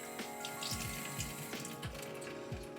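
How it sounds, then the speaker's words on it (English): Water running into the small tank of a Proscenic 850T robot mop, a soft steady trickle with quiet gurgling drops, close and faint. "this little hole right there, that's where we're gonna fill it up with water"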